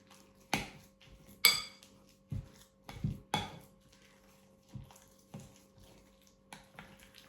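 Banana and oat cookie batter mixed by hand in a bowl, a spoon knocking and scraping the sides in irregular clinks and thumps, close by and quiet.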